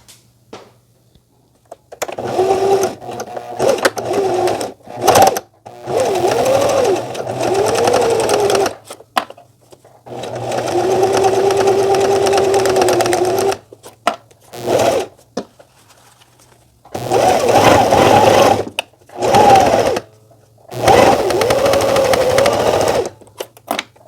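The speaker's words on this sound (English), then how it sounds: "we're going to take this to the sewing machine" Sewing machine stitching fabric seams in several separate bursts of rapid mechanical whirring, with short silent pauses between runs.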